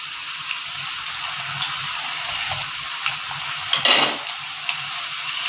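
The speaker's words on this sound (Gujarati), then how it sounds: "હવે કઢાઈમાં તેલ મૂક્યું છે એમાં આપણે એને ડીપ ફ્રાય કરી લઈશું" Methi shakkarpara dough pieces deep frying in hot oil in a kadai, a steady bubbling sizzle throughout with a brief louder stirring or clink near the end.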